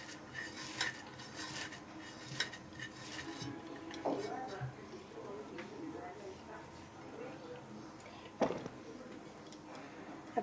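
Mashed shrimp with salt and chili is rubbed and mixed by hand in a dish, giving soft squelches and light clinks against the dish while a person talks over it.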